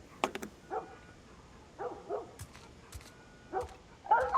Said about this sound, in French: il va se taire, le chien?